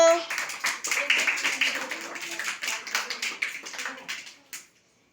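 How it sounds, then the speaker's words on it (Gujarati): A group of children clap their hands in a quick, steady rhythm of many close claps, with voices mixed in, before stopping abruptly. "હાલો તાળી પાડો"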